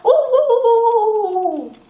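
A voice imitates a dog with a single drawn-out howling yelp, loud and close, rising at the start and sliding down as it fades.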